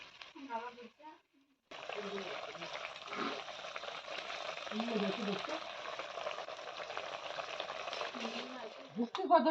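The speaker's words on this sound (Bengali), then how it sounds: "ভেজে নিচ্ছি" Spinach frying in a pan with cumin and ginger paste, a steady broadband sizzle running for most of the clip after a short gap at the start, with someone talking over it.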